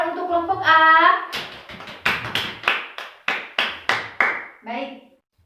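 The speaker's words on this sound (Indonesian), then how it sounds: "Tepuk tangan untuk kelompok A." An elementary school class claps for a group in a rhythmic sequence of about a dozen sharp, evenly spaced claps, preceded and followed by a voice.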